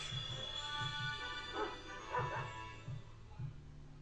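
A dog-type Pokémon cry in Pokémon Violet: a series of short yipping, whimpering synthesized dog barks in a steady rhythm over soft game music.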